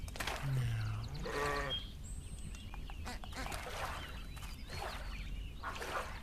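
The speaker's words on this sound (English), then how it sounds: "hello, sheep." Sheep bleating in the video game Elsewhere, a few short bleats early on over a steady ambient game soundscape with other animal-like calls scattered through.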